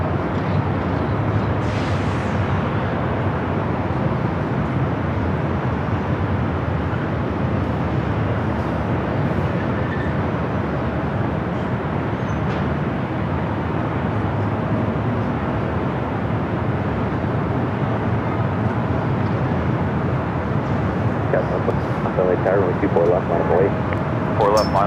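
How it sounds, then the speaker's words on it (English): A Virgin Atlantic A350-1000 airliner at LAX gives a steady, loud, broadband jet roar that holds for the whole stretch without letting up, with faint radio chatter in the background. "Second Virgin A350-1000 aircraft of the day"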